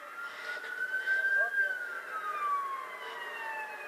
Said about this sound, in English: I'm starting to hear more sirens in this area